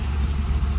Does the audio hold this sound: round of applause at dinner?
no